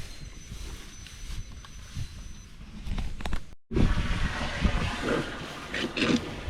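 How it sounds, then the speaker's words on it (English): Water pours into a cattle water tank on a dairy farm: quiet trickling and rushing at first, then a louder, steady splashing flow that continues close by. "we're no longer leaking anymore and filling up with water"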